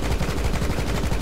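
A rapid string of gunshots from a video game fires steadily and close, evenly spaced pops in quick succession.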